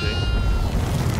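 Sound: goat bleating in the video game Devour

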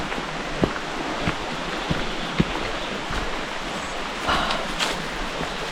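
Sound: small river flowing from a waterfall

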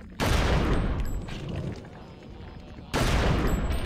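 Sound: pistol gunfire in the video game Eternal Darkness

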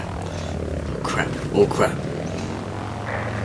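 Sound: propeller plane engines in video game Battlefield 1943

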